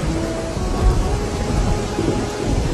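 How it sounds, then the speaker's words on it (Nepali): A thunderstorm sound effect carries a continuous wash of heavy rain with low, rolling thunder rumbles beneath it, steady and fairly loud. "एक दिन ठुलो हुरी बतास सहितको असिना पानी आउला जस्तो हुन्छ।"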